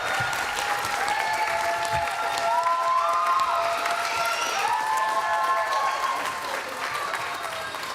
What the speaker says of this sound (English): the audience was standing and clapping